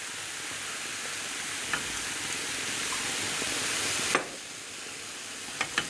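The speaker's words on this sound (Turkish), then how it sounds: "Şimdi içine biraz su ilave ediyorum." Water poured into a hot pan of cauliflower, setting off a steady broad sizzle and hiss with a few small pops and stirring knocks.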